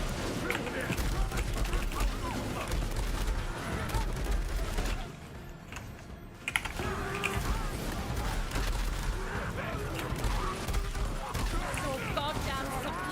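Dense Borderlands 3 gunfire crackles in rapid bursts amid heavy enemy combat, nearly continuous with a brief lull midway, while a voice talks over the chaos.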